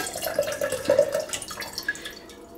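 A percolator brew basket from a Hamilton Beach stainless steel percolator dunked into water, giving a short run of soft splashing and dripping close by, with no voices.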